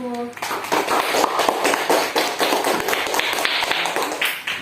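Schoolchildren in a classroom clap for a group of classmates, a loud burst of uneven hand claps running throughout, with a brief tone at the start and voices mixed in.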